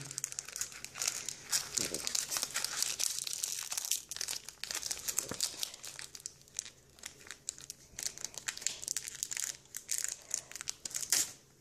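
A Pokémon Platinum booster pack wrapper is crinkled and torn open up close, a steady run of sharp crackling and rustling with a few louder tears, under occasional talk.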